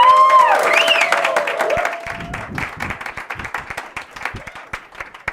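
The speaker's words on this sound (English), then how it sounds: "A warm round of applause for Ashley, opening the night." An audience at a storytelling night breaks into applause with high whoops and cheers, then the clapping thins into scattered, separate claps that fade toward the end.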